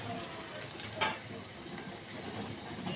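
Crushed onion, garlic and ginger fry in hot oil for a Bengali pangas fish curry, a steady close sizzle with a brief stir or clatter, no talking.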